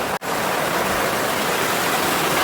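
Steady broadband rush of a river flowing beneath a bridge near ice caves, continuous and loud with one brief dropout near the start.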